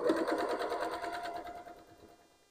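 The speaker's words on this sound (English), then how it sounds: "So I hold my threads when I start the sewing machine." A sewing machine stitching a quilt block runs in a steady, close whir that gradually slows and fades over a couple of seconds, with no talking.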